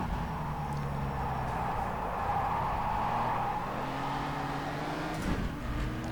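Le Mans racing video game car, an LMP2 or GT3 class racer on a wet track, droning steadily with a continuous engine roar and shifting pitch bands, close and fairly loud throughout, with no talking.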